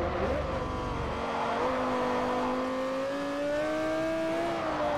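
A Lexus LFA's V10 engine and exhaust in Forza Motorsport 4 wails loud and continuous, the pitch climbing steadily through the revs with a brief dip at a gear shift.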